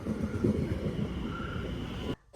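A fast train rumbles steadily with a low, rolling drone and faint rail clatter, then cuts off abruptly near the end.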